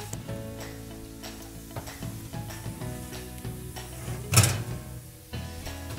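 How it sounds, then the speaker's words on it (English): Baked tofu and vegetables are pulled from the oven and flipped, with soft sizzling, scraping and stirring against a pan, a sharp clatter near the end, and a faint musical hum underneath. "we're gonna take our tofu and veggies out of the oven and go ahead and give them a flip"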